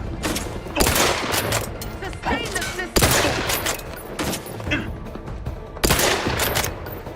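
Gunfire in The Outer Worlds 2, a video game: loud, rapid bursts of shots come in clusters roughly every few seconds over continuous busy combat noise.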